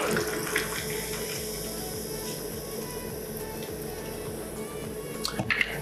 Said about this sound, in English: Following this, we're going to top it up with soda water.